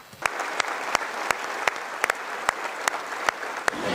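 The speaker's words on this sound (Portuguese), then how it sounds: "foi aplaudido de pé" Standing ovation in the Polish parliament, a dense roar of many hands with loud, distinct sharp claps cracking through at irregular intervals, continuing steadily from start to finish.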